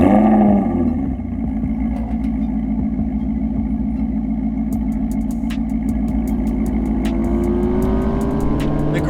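A Maserati GranTurismo MC convertible's naturally aspirated Ferrari-built V8 fires up loudly close by, catching with a sharp blip, then settling into a rumbling idle with a few quick revs, no voices.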